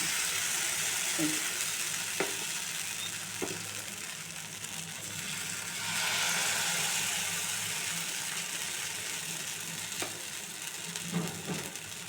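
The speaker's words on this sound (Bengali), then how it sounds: "আমি ফ্রাইং প্যান বসিয়ে দিয়েছি, তেলও গরম হয়ে গিয়েছে। এবার আমি ব্যাটারটা আস্তে আস্তে প্যানকেকের মতো করে দিয়ে দেব।" Semolina and yogurt batter frying in hot oil in a frying pan, a continuous soft sizzle throughout with a few faint clinks and light knocks.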